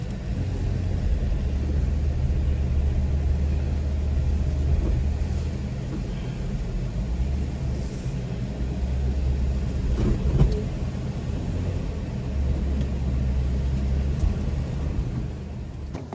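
An off-road vehicle crawls over a trail obstacle in four-low, its engine a steady, deep rumble that swells slightly and then eases over about sixteen seconds, with no voices.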